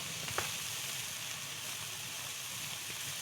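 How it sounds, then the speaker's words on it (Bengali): Prawns with a little salt and turmeric frying in a small amount of oil, a soft steady sizzle and hiss at close range with a brief clink near the start. "চিংড়ি মাছটা ভেজে নেবো"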